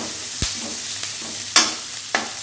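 Green chillies and crushed garlic sauté in a pan, a light frying hiss broken by a few sharp spoon knocks against the pan, close and with no talking.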